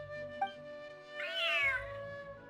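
An unhappy cat meows in a Hoyoverse video game, one drawn-out, wavering cry that rises and falls, close and clear over a soft game backdrop with a brief click before it.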